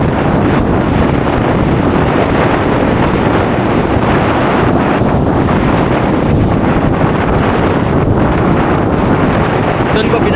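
Strong wind roars across the microphone in a constant, loud rumble, with water sloshing faintly underneath throughout.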